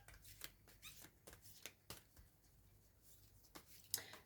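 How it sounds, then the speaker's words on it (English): Soft, quiet riffling and tapping of a deck of tarot cards being shuffled by hand, irregular flicks close by in a hushed room. "I'm going to shuffle the cards"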